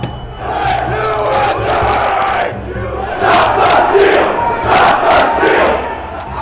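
Large crowd of rioters storming the Capitol, a loud roaring mass of shouting voices that swells and surges in waves, with scattered sharp yells and cheers over a rumbling background.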